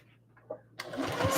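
A sewing machine starts stitching over a name tag after a few faint handling noises, its motor whirring up loud and close near the end.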